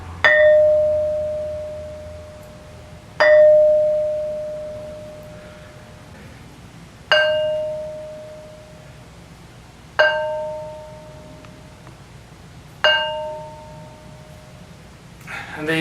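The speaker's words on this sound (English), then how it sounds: "Demonstration how these stones ring like bells" An ancient stone struck like a bell rings out five times at spaced intervals, each strike giving a clear metallic-sounding tone that sustains and slowly decays; close and loud, with no talking.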